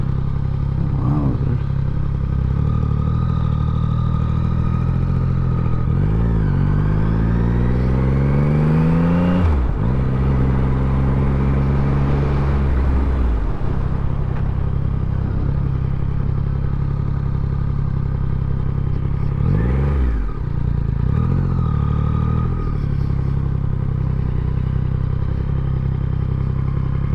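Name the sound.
Yamaha MT-09 motorcycle engine and exhaust revving with quick shifter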